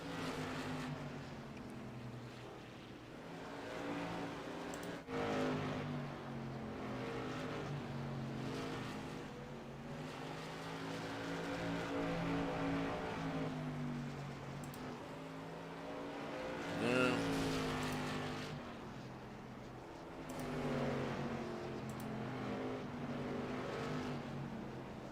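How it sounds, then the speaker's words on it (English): Race cars circle a track during a fundraiser race at Langley, with engines droning and rising and falling as cars pass, heard at a distance for a sustained stretch, fairly faint with a hint of background voices. "Here we have Jeffrey Battle, the number 14 car."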